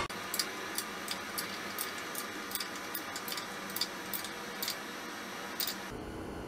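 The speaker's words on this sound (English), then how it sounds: "That's me torquing it down." Ratcheting torque wrench tightening a banjo bolt on an engine during a tappet cover and fuel pump install, giving a steady series of light, close metallic ticks that end with a final click before stopping.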